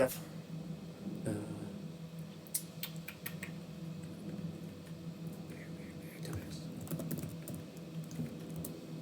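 Quick, soft keystrokes on a computer keyboard tap out notes in a light, irregular patter during a Dungeons and Dragons session, quiet and close, with faint murmuring in the background.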